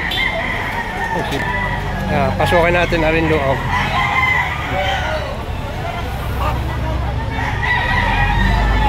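Several roosters crow repeatedly nearby, with hens clucking around them and people talking over the noisy yard.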